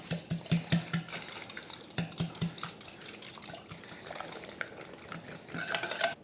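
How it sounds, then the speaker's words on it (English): Eggs whisked in a glass pitcher, a quick run of rhythmic clinking strokes that pauses, resumes and ends in a brighter, harder flurry of taps, close and clear with no talking. "Now beat the eggs to smithereens."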